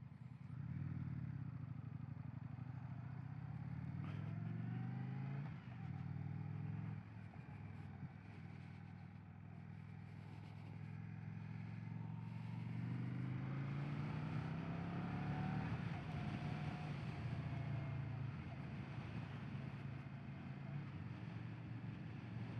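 A 2025 Indian Sport Scout Limited motorcycle engine drones steadily while riding in fourth gear around 45, a low rumbling hum with rising and falling revs under strong wind rush, no talk.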